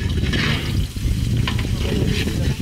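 Onion paste sizzles and crackles in a hot pan for a chicken roast cooked on a boat, a dense, close frying noise with light stirring scrapes and no voices.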